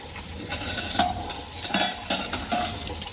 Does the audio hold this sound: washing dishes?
yes